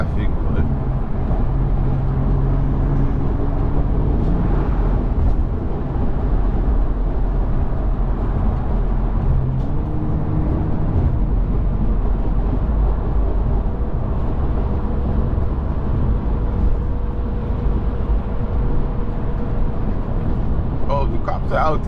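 Interior of a car accelerating onto a highway with light traffic, a steady loud road and engine drone running continuously throughout, low rumble dominant and no voices heard.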